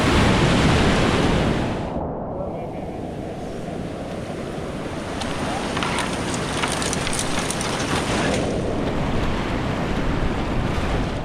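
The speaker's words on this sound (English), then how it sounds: "Some epic whitewater we are finding just now." Whitewater rapids on a Madagascar river roar in a loud, continuous rush of churning water, with heavy wind buffeting the microphone at the start before easing into a steady torrent.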